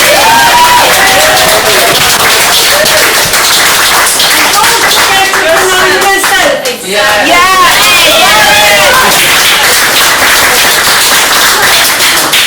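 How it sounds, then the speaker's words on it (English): Loud, dense applause from an open-mic audience for the month's guest reader, sustained clapping with cheers and crowd chatter mixed in, close and full throughout, with a voice speaking over it. "we have to give a massive round of applause to our phenomenal guest reader of this month, Miss Catherine Ronan"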